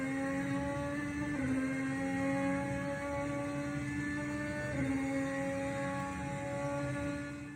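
A Red Bull RB16B Formula 1 car on the Interlagos circuit in a racing video game, its engine droning in a high steady tone and stepping through rising revs with a couple of gear shifts, fairly faint and with no voices.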